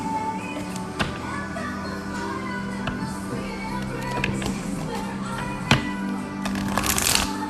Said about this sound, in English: Let me shuffle the rest of the cards.